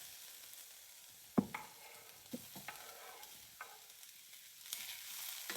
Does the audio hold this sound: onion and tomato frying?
yes